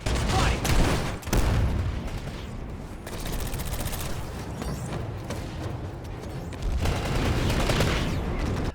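Rapid video game gunfire in the style of a shooter, with dense bursts of automatic shots and booms crackling continuously, loud and close, broken by short pauses between volleys.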